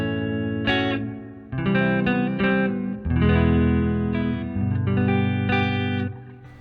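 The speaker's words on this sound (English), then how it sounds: "I really like the neck pickup on this." A warm, thick Univox Hi-Flier electric guitar on its neck pickup plays a few sustained chords and single notes with a touch of reverb, alone and fairly close.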